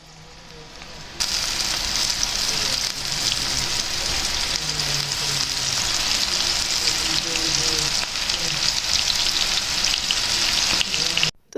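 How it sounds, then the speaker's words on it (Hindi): Mutton kebabs frying on a low flame give a steady, dense sizzle that starts after about a second and runs continuously at even loudness, with faint background voices beneath it. "लो फ्लेम पे फ्राई कीजिएगा, और कबाब फ्राई होते जाएंगे"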